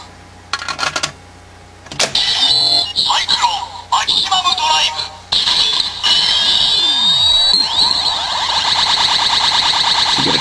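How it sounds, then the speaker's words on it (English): A Kamen Rider Double Driver toy belt plays its electronic Cyclone charge-up sound, loud beeping and synthesized tones following a few clicks, building into a sustained, rapidly pulsing high warble at close range. "You get a charge-up sound,"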